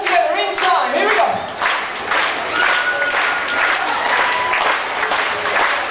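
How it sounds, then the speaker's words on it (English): A holiday-camp audience claps along together with hands raised, a dense steady wash of applause under cheers and scattered shouts, close and loud throughout. "We go clap, clap, clap. All together in time."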